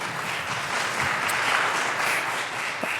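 Audience at a First Amendment summit applauding, a full, continuous burst of clapping from a crowd, even and sustained with no talking.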